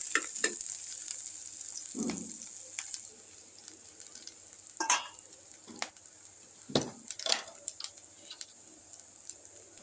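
Bitter gourd frying in a pan with chopped green chilli and paste, a steady soft sizzle broken by several scraping stirs, close by with no talking.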